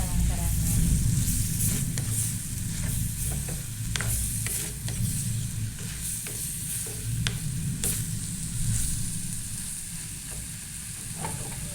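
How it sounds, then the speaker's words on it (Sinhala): Chopped big onions frying in a pan, stirred steadily, with a continuous close sizzle and repeated sharp scraping strokes of the spoon running throughout. "දැන් අපි මේකට අර කපාගත්ත ලොකු ලුණු ටික දාලා කලවම් කරන්න ඕනේ."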